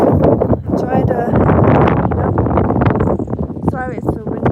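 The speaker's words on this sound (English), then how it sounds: "sorry it's so windy today" Strong wind buffets the microphone outdoors beside a building, a loud continuous rumble and roar with a person talking over it throughout.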